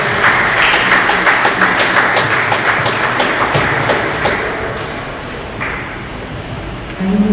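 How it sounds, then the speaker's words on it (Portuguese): A church congregation applauds loudly with dense, rapid clapping and some thumps, then the clapping thins and fades toward the end while voices murmur underneath. "Você pode aplaudir o Senhor bem forte?"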